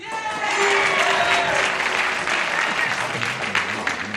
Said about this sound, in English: one dummy is booing, everybody else is applauding